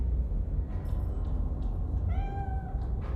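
A cat meows in the Iron Nest heavy turret simulator game: a single drawn-out, rising meow stands out clearly over a steady low rumble, with a few softer chirps just before it.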